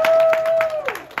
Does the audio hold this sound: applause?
yes